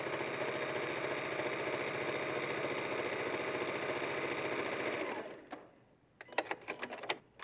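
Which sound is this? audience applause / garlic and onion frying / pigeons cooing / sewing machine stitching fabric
sewing machine stitching fabric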